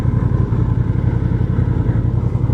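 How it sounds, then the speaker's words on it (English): Honda CB750 Hornet motorcycle running while ridden, a steady low engine drone with a continuous rumbling pulse, close and fairly loud, no talk. "we will ride around to try to explore and understand a little bit more about the Hornet 750"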